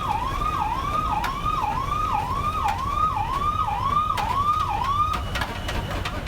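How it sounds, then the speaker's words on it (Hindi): A wailing emergency siren sounds across Ayodhya city, its pitch sweeping up and down in fast repeated cycles, loud and continuous over faint traffic noise, with no talking. "अचानक सायरन बजने पर लोग सड़कों पर निकल आए।"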